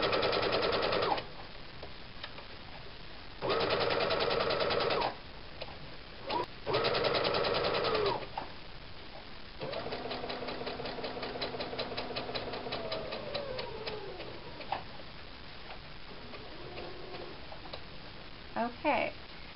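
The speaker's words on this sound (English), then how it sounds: "we're going to sew all the way around" Sewing machine stitching around the edges of a fabric bow, running in several loud, steady bursts separated by short pauses, with a longer continuous run that slows and tapers near the end.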